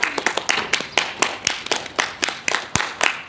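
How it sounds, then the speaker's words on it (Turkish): A small group at a riddle quiz game claps in a steady rhythm, sharp evenly spaced beats about three per second, close and clear with no talking. "Alkış."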